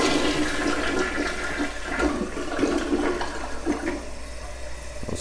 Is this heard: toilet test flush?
yes